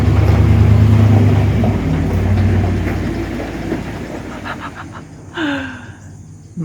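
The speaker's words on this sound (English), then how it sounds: "Can you hear his truck?" A loud pickup truck backs up close by, its heavy low engine rumble dominating before easing off, with brief squeaks and clatter toward the end.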